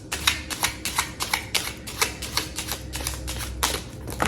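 A deck of tarot cards is shuffled hard and fast, giving a quick run of crisp riffling clicks and flutters close by, repeating in short bursts for several seconds with no voices.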